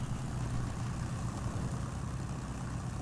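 A heavy truck engine in the SnowRunner driving game drones in a steady, low rumble with no clear rises. The sound is constant and even throughout.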